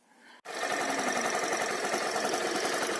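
Suzuki Lets 2 scooter engine catches after a short crank and settles into a loud, steady, close-up idle with a fast rattling pulse, no talking.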